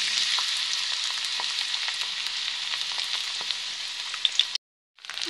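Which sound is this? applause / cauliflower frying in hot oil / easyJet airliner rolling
cauliflower frying in hot oil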